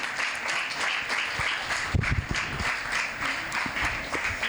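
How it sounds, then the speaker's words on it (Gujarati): Audience applause at a school poetry event with a poet, steady dense clapping throughout with a brief louder burst near the middle, moderately distant and alone without talk. "જોરદાર તાળીઓથી વધાવીએ."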